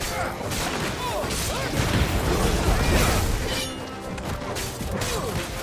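Dense, loud battle noise from the video game Final Fantasy XVI, with crashing impacts, booming blasts and rapid shots layered continuously, while a player talks over it.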